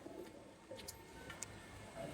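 Teddy pigeons coo faintly in a continuous low murmur, with a few sharp little clicks and rustles scattered on top.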